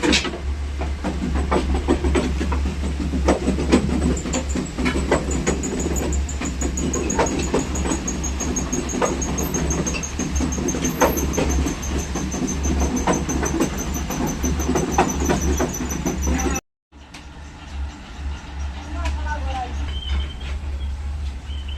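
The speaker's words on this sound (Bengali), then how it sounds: "এই যে মেডিসিন দিয়ে তারপরে সুতা টানতেছে।" A yarn-drawing machine at the Karatoya textile mill, preparing thread for lungi and sari cloth, gives off a steady, loud mechanical drone with a constant hiss. It runs unbroken, drops out for a moment, then carries on.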